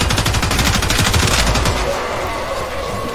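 Rapid automatic gunfire from the Gorgon, a heavy machine gun in Warframe, hammering through a shield in a loud, dense continuous burst that tails off near the end.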